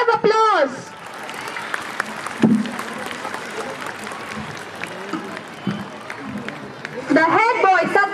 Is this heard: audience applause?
yes